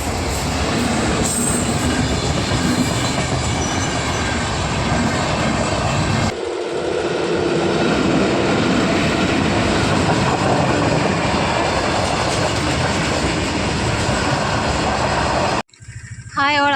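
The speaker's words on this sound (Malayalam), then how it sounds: "പോണ വഴിക്ക് ഒരു റെയിൽവേ ഗേറ്റ് ഉണ്ടായിരുന്നു" Two trains pass a railway level crossing while traffic waits at the gate, making a loud, continuous close rumble and rolling clatter of wagons that runs for most of the stretch before cutting off abruptly near the end.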